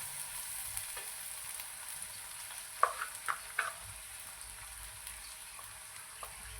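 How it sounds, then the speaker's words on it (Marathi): A ginger, garlic, coconut and coriander-stem paste sautés in oil, giving a soft, quiet sizzle with a few light scraping taps from stirring. "हे वाटण आपल्याला तेलामध्ये छान असं परतून घ्यायचं आहे"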